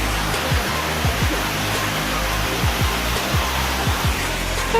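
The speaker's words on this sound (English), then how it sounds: "So it's raining." Rain falls steadily in a dense, even hiss, with a few low rhythmic thumps underneath and no voices.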